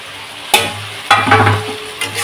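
Potato fritters tossed into a pan with potatoes, giving a few sharp clatters and then a steady sizzle and scraping stir, close and fairly loud with no talking.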